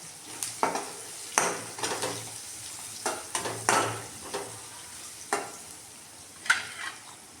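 Grated beetroot with turmeric is stirred in a frying pan, with repeated scraping strokes of a spatula against the pan over a low sizzle, close and regular.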